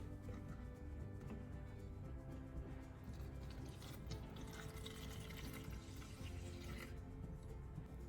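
90% rubbing alcohol poured into an empty spray bottle, a continuous close trickle and splash of liquid that stays fairly steady throughout.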